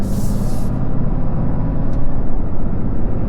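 A 2025 RAM 2500 AEV Prospector XL pickup on 40-inch tires with a ZF 8-speed transmission drives in third gear; a loud, steady low engine and road drone with cabin rumble runs throughout, with no talking.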